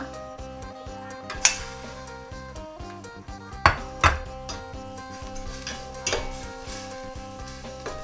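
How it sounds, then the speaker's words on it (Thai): Metal clatters and scrapes in a pan with occasional sharp knocks and a low sizzle as sliced pork belly is stir-fried over medium heat in melted curry paste, with no one talking. "ใส่หมูสามชั้นที่เราหั่นลงไปผัดเลยนะคะ"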